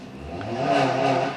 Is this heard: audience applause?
no